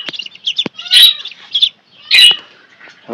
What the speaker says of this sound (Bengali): আর আমাদের হাঁসের বাচ্চা আছে এই জায়গায়